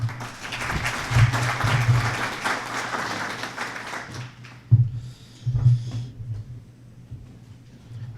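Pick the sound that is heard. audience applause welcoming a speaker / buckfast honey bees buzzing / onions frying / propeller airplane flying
audience applause welcoming a speaker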